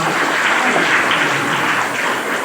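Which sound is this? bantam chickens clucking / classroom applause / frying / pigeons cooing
classroom applause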